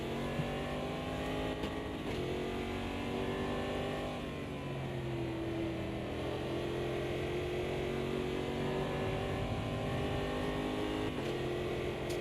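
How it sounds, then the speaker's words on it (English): A V8 race car engine in the video game AMS2 (Automobilista 2) roars continuously, its pitch rising and falling through gear changes and braking, close and loud with no talk. "Can't beat a nice V8 to start the proceedings."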